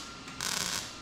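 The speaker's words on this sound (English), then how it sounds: "I'm gonna go around and tack, tack, tack, and weld her all up" A MIG welder tack welds a patch panel on a 1976 GMC truck, giving a short burst of crackling sizzle that starts abruptly partway through and holds steady, close and moderately loud, with no talking.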